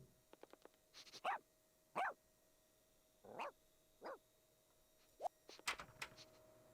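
A small dog in The Sims 1 gives a run of short yips and barks, several separate calls spaced over a few seconds, fairly clear against a quiet game background with no talking.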